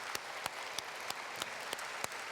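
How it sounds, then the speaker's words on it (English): Faint, evenly spaced claps, about three per second, from a ceremony honouring leaders of European radiology, with a quiet room murmur behind the crisp strikes. "A big round of applause to the stars of European radiology."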